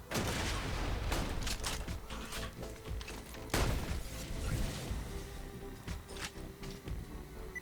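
Sniper rifle fire in the video game Borderlands 2, several sharp cracking shots over a busy, noisy battle bed, with one especially strong blast near the middle and scattered impacts and whooshes around it.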